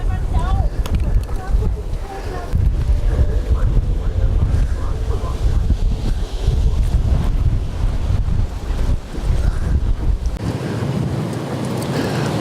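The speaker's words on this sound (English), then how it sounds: "It's pretty windy out here." Strong wind gusts roar steadily across an exposed section of the Great Wall of China, buffeting the microphone with heavy low rumble throughout, easing slightly near the end.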